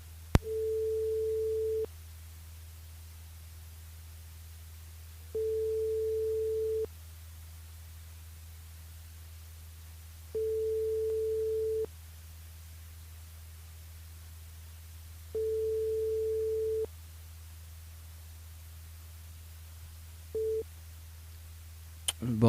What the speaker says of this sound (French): Bon, bah, Michel, ça sur la messagerie